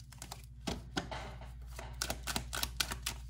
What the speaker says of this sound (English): I want to shuffle better.